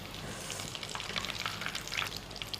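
Tempura pieces in batter deep-frying in hot oil, giving a steady, dense crackling sizzle with small popping bursts throughout, close and continuous, with no voices.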